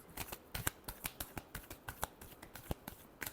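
Close, rhythmic riffling and snapping of a deck of tarot cards being shuffled repeatedly, with crisp flicks arriving several times per second.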